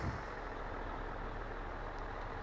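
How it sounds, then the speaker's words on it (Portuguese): A heavy truck rolls downhill in Grand Truck Simulator, its engine a steady, dense low rumble that holds unchanged throughout at moderate loudness. "o caminhão descendo"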